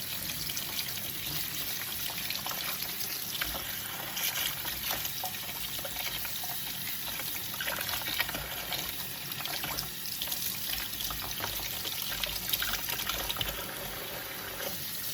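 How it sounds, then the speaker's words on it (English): Duck legs are washed under a running sink tap while preparing duck confit, with a steady, close gush of water and irregular splashing throughout. "So you go to the sink and start washing the stuff out."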